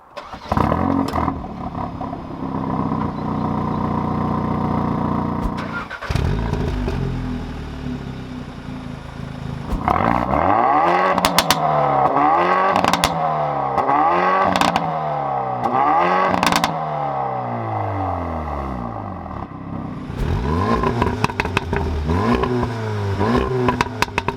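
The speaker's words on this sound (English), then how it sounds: "the first of which being a startup, second of all revs, and last of all a flyby" A Volkswagen Golf R and a Hyundai i30 N Performance hot hatch fire up with a loud startup flare that settles into a steady idle, then deliver a run of sharp rising-and-falling rev blips, close and loud with no talking.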